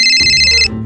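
A phone ringtone plays loudly for most of a second, a steady electronic tone that cuts off abruptly near the end, with low background clatter beneath it.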